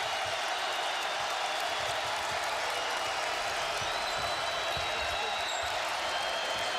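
College basketball arena crowd at a Michigan at Iowa game rising to its feet, a dense steady roar of cheering and applause filling the gym at moderate distance.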